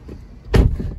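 A single solid car door thud from an Audi A5 2.0 TFSI S line Sportback, one short muffled slam close by, with quiet surroundings before and after.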